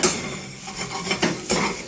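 Spatula scraping and clinking against a pan while egg fried rice is stirred, a few irregular metallic knocks over a soft continuous rustle, close and fairly quiet with no talking.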